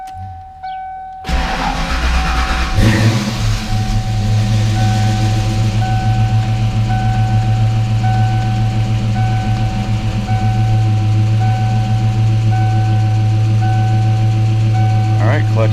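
A 1993 Mustang Cobra with a newly installed TKO600 transmission cranks and fires, settling into a loud steady idle with a rough low drone and a chime sounding repeatedly in the background; a person talks over it.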